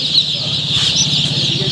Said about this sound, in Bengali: মাল্টি কালারের টাইগার মুরগির বাচ্চাগুলো দেখুন